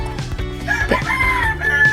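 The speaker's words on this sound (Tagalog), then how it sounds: "Ang gulo naman ng manok." A rooster crows loudly nearby at a rice paddy farm, a long drawn-out call standing out over a busy backdrop of other bird and farmyard noise.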